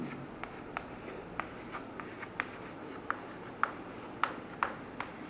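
Steady scratching of writing on paper or a board during a chemistry lesson, with faint rubbing strokes and a dozen sharper ticks from the pen or chalk at irregular intervals over low background hiss.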